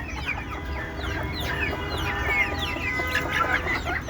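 Domestic village chickens clucking outdoors, several birds giving repeated short clucks and calls close by, overlapping in a busy, uneven rhythm with no one speaking.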